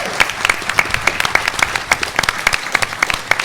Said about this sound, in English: Round of applause for advice, please.